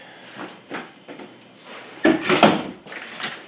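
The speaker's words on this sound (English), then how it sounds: "Hold on, I got to close the door here." A door swings shut in an indoor room, a short burst of clunks and a latch click, fairly close and distinct, with faint shuffling before it and no talk.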